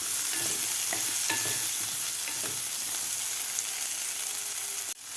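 Boiled peas sautéed and stirred in a hot masala, giving a loud continuous sizzle with repeated close scraping strokes of the spoon, cut off abruptly near the end.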